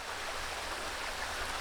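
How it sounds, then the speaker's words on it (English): A small waterfall on Wolf Branch Creek in the Shope Creek wilderness rushes with a steady, even wash of water noise, close and continuous, with no voices. "It is a waterfall, bonus waterfall."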